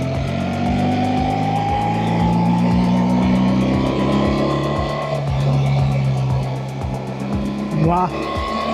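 A BMW R1300 GSA motorcycle engine drones steadily and loudly while riding, with rising and falling pitch and a rhythmic throb. A rider's voice talks over it.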